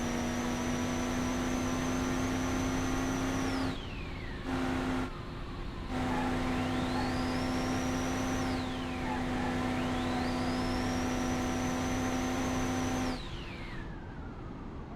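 Car engine and gearbox in the game Automation, a steady buzzing engine drone with a whining gear tone that rises and falls repeatedly as the revs sweep up and cut off between shifts.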